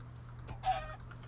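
A chicken in modded Minecraft gives a short, faint cluck over a low steady background hum, a single brief call with no talking.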